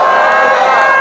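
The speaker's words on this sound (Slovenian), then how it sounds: "poslušajte, kaj ti množica vas bo pozdravila" A crowd gathered in Ljubljana to welcome home Slovenian Olympian Ana Velenšek from the 2016 Rio Games cheers loudly and steadily in a dense, sustained roar throughout.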